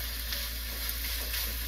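Thai-style tofu curry sizzling steadily in a pan while being stirred, a soft continuous hiss and crackle heard close and alone.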